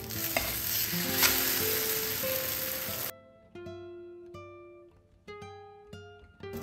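An oats omelette fries in a pan, with steady loud sizzling for about three seconds. Quieter tonal sounds and light clinks follow, and no one speaks.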